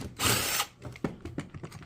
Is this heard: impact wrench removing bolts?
yes